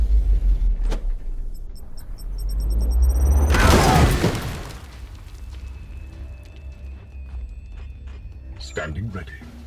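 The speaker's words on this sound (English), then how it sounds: "Let's throw a nade in there." A grenade detonates in Warhammer 40K: Chaos Gate Daemonhunters, a single loud broadband blast swelling and rumbling for about a second, set among game effects and a low ambient bed.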